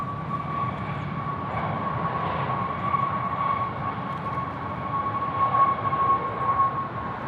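A Singapore Airlines Airbus A380 comes in to land on runway 34 left at Sydney Airport, its jet engines a steady, loud broadband roar with a faint whine that swells slightly toward the end.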